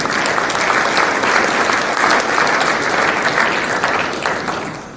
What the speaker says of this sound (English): Quick little round of applause for our Lone Star Conference third team.